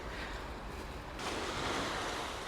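Sea waves wash onto a Mallorca beach just after a November storm, a steady, close surf roar mixed with wind buffeting that swells louder partway through.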